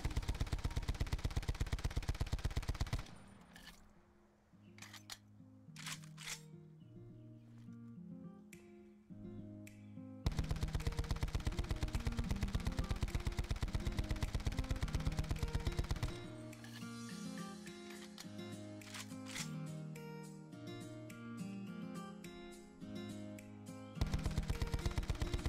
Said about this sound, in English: This is me shooting this weapon without the grip attachment.